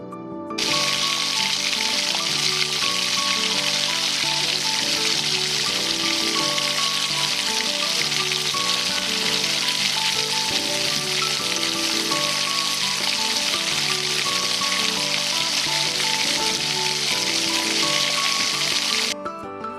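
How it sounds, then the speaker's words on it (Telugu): Mysore bonda batter frying in hot oil, a loud, dense and continuous sizzle that holds steady from start to end with no voices over it. "ఆయిల్ వేడి ఎక్కిన తర్వాత మైసూరు బజ్జీ వేసుకోవాలి"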